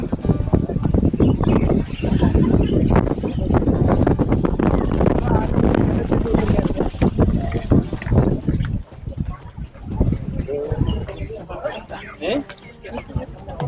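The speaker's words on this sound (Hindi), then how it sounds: "बहुत ज़्यादा हवा चल रहा है आज" Strong gusting wind buffets a microphone outdoors at the Bibi Khanum Mosque in Samarkand, a loud continuous rumble with sharp bursts, while someone talks and a crowd murmurs.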